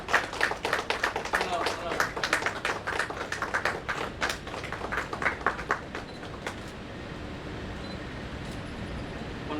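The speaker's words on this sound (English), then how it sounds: "A big round of applause for Selva Kumar." Audience applause at a one-day real estate seminar on GST and RERA, honoring the chief guest: a dense patter of hand claps, moderately loud, that thins out and fades after about six seconds, leaving faint room noise.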